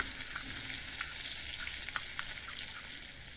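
Mustard seeds, cumin and green chilli crackle in hot oil with a pinch of asafoetida, a soft steady sizzle dotted with quick popping ticks, fairly quiet and close.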